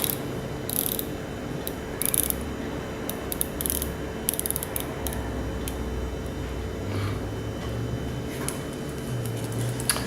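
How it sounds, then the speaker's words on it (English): A watch bezel is turned by hand, giving rapid bursts of fine ratchet clicks close up, repeating in short runs against a faint steady background hum. "The bezel action on this is just the smoothest of any watch I've experienced."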